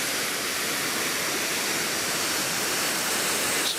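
Waterfall at Hidden Creek in Anyox, a steady broad roar of falling water, loud and continuous with no breaks, heard from nearby without any speech.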